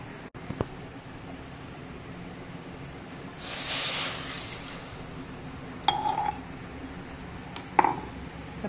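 Three-quarters of a glass of water poured into a hot kadhai used for rava besan barfi hisses in a brief, loud burst of under a second, followed by a few sharp metallic clinks of utensils in a quiet kitchen.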